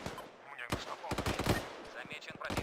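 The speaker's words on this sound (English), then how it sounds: "Sniping with a fucking AK." AK rifle fire in Arma 3 cracks out in rapid, uneven bursts of loud shots mixed with other game sounds, while players talk over the shooting.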